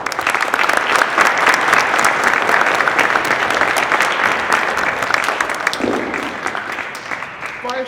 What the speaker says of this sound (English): I would like for everyone here to give a round of applause to the 3 previous speakers.